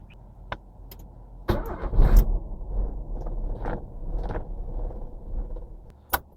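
A Nissan Sentra B14 with a rough, misfiring engine is cranked, catching with a loud burst and settling into an uneven, sputtering run with irregular surges, plus a sharp click near the end, no talking.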